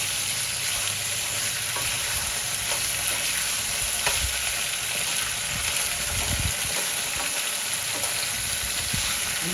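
Potato slices sautéing in a pan, a dense continuous hiss of frying with faint stirring and occasional soft clatter, steady and close throughout with no voices.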